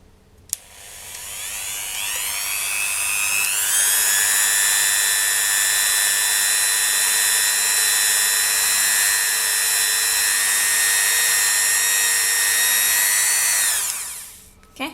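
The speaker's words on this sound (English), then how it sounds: "if you really want a nice high shine, a buffing wheel does the trick" Dremel rotary tool spinning a buffing wheel against polymer clay earrings, a loud high-pitched whine that ramps up, holds steady for about ten seconds, then winds down.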